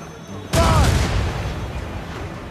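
Ship cannon fire in Assassin's Creed Rogue bursts in as a sudden loud boom, followed by a rumbling decay that lingers for a couple of seconds.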